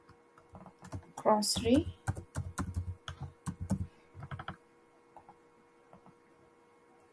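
Typing on a computer keyboard while designing a bottom navigation component in Figma, a run of quick close key clicks in bursts, mixed with someone speaking.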